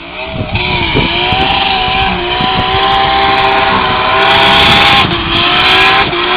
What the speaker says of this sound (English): Second gear rolling burnout launches.